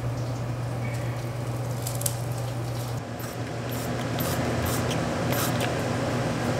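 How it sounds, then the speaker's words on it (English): Several quick hissing spritzes of propolis spray from a spray bottle, in a home kitchen, come as brief bursts over a steady low background hum. "I always sneak in an extra spray."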